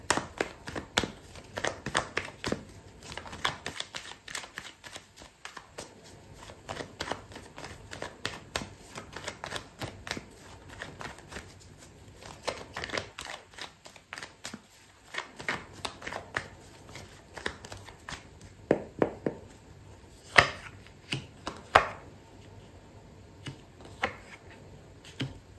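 Tarot cards shuffled by hand, with dense papery riffling and flicking that runs almost continuously for about 25 seconds, close and clear, with short pauses and a few sharper slaps and no talking.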